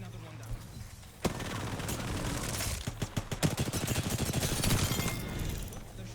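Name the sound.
gunfire in a video game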